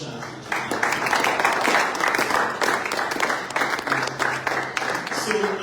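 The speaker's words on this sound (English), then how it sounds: "Please, a round of applause for that fantastic chat." Audience applause at a 2023 event called The Unveiling, a dense steady wash of many hands clapping from the crowd, sustained and fairly loud throughout with a few murmuring voices mixed in.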